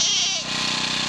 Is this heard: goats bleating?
yes